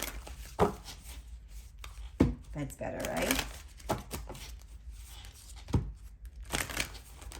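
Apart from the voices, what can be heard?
shuffling tarot cards on a notebook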